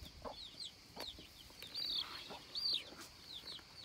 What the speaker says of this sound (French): Je trouve lui c'est un coq.